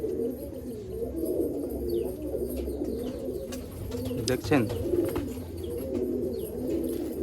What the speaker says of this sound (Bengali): এই একটা মাদি পায়রা দেখুন